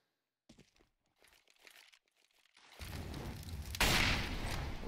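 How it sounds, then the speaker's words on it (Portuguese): A flashbang grenade goes off in a Counter-Strike match on the Cobblestone map: faint crinkling bursts, then a loud broadband blast that swells and peaks sharply before holding at a high level. "Uma flashbang aqui, o Mitch."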